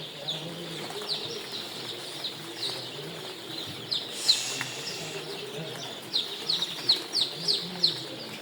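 A crowd of Sonali chickens in a heated brooder chirps and peeps in quick bursts, busier toward the end, over a low murmur of background noise.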